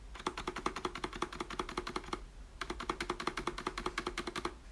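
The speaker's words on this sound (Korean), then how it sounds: "스페이스바의 스테빌라이저 소음을 이 정도로 많이 잡아냈습니다" Repeated key presses on a Hansung GK893B tenkeyless wireless electro-capacitive keyboard, the spacebar stabilizer noise dampened, in two fast rhythmic bursts of muted thocks separated by a brief pause, close and moderately loud with no talk.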